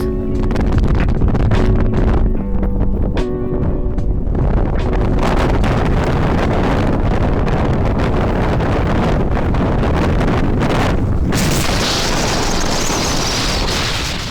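Strong wind on a mountain summit in the Carpathians buffets the microphone in a loud, continuous roar, gusting and rumbling heavily without any voices.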